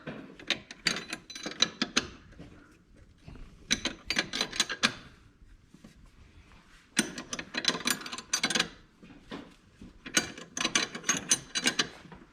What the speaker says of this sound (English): at the massive, massive four arms of Tommy, he's just going to go ahead and tighten that bolt up.